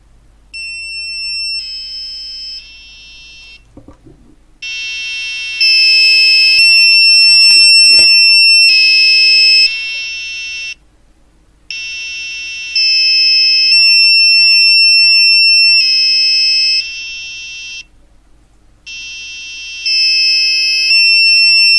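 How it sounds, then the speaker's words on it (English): A buzzer wired to analog pin 9 of a microcontroller board sounds in repeated long steady tones that swell louder and fade softer, separated by short quiet gaps. "hope you guys heard the buzzer's volume increase and decrease."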